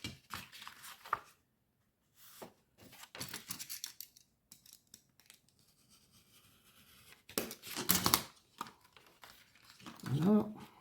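Scissors snipping paper while making a sticker pouch, a few short crisp cuts and rustles at close range between quiet pauses, with soft handling noises around them.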